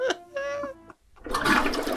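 A toilet flushes in a scene from the 2004 Catwoman superhero film, a short cat-like meow leading into a brief pause and then a loud, rushing burst of water.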